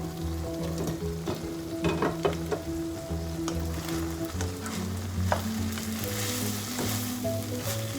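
Minced meat sizzling and frying steadily in a pan over medium heat, a continuous close crackle with occasional stirring scrapes and no talking.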